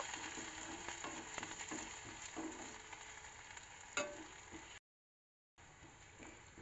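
Chillies frying in a hot pan with chopped garlic while being stirred, giving a steady, close sizzle with scraping stir noises, briefly cut to silence before the crackle resumes.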